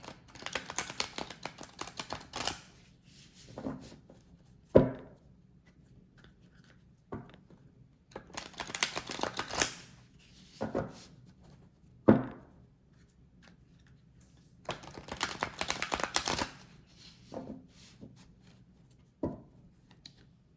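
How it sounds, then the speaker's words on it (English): A tarot card deck being shuffled by hand, with repeated crisp bursts of riffling cards separated by short pauses and soft taps as the pile is squared, close and clear with no talk. "Here I go with the shuffle."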